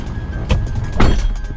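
Two solid thunks half a second apart as someone climbs into a 2013 Ford F-150 Platinum EcoBoost pickup, close and fairly loud over a low cabin rumble, with no talking.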